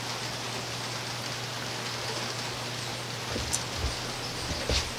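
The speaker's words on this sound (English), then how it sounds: "However, it's raining." Rain falls on a hot 98-degree day near a car build: a steady, even hiss over a low constant hum, with a few soft thuds of drips toward the end.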